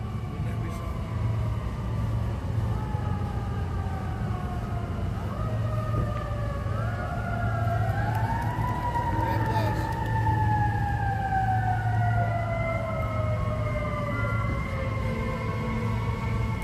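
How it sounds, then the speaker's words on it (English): Fire truck sirens wail continuously, several overlapping rising and falling tones sweeping loudly against a steady low rumble of traffic, with no pause. "I never heard of a place that had so many sirens"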